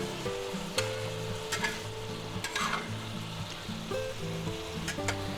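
Sliced peppers and onions sizzle steadily in a hot pan while being pushed to one side, a continuous frying crackle with soft stirring scrapes and a few brief clinks, moderately quiet, no talking.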